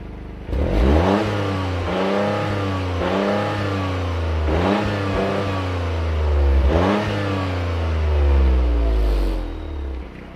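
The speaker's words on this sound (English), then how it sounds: "listen to a couple of revs of a standard GRC." A stock Toyota GR Corolla engine revs hard several times in a row, each burst climbing in pitch and falling back, loud and close with a deep exhaust rumble between revs.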